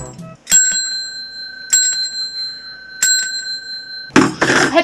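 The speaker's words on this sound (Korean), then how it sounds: "내가 종소리 대신 들려줄게." A bicycle bell rings three times at steady intervals, each ding sustaining a clear tone, followed by a short burst of louder noise at the end.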